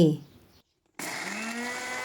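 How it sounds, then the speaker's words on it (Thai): After a brief bit of talk and a moment of silence, an electric food grinder kicks on and runs loud and steady, chopping and whirring chopped vegetables with salt, coriander root, spring onion and pepper continuously. "นำผักทั้งหมดที่หั่นมาใส่เครื่องบดนะคะ"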